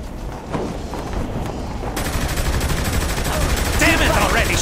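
Video game gunfire rattles in rapid, dense bursts that grow louder toward the end, with a voice speaking over it.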